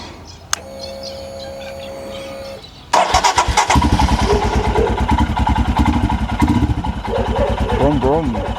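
A Royal Enfield Himalayan 411 motorbike starts up after a quiet moment with birds chirping, then settles into a loud, steady thumping idle close by.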